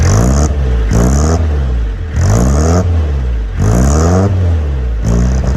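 An old car idles on a cold start through a homemade stainless steel exhaust and silencer, with a raspy, throbbing exhaust that swells and eases in regular pulses, loud and close.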